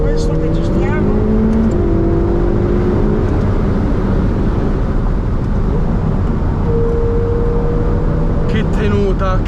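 Ferrari 488 Pista engine at full throttle on hilly roads, a loud sustained roar heard from inside the car with pitch climbing through gear changes, people talking over it.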